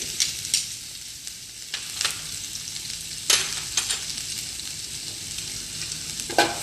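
Chopped garlic and green chili, with chopped fresh ginger, sizzle in a pan. A continuous fry hiss is broken by several sharp scraping clicks as the mix is stirred, all close and clear.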